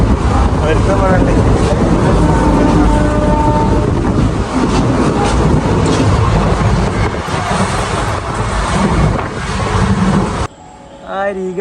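A train pulling out of Kollengode railway station rumbles and rattles loudly and steadily for about ten seconds, with wind buffeting the microphone, then cuts to a quieter moment with a short burst of other sound.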